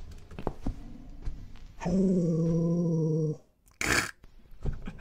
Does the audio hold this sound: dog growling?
yes